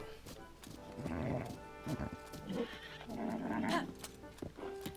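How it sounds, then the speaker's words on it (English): Spotted horse from Zelda: Tears of the Kingdom gives several whinnies and snorts over soft hoof clip-clops, close and moderately loud, with a faint game voice in the background. "this is the final special horse in the game, this spotted horse"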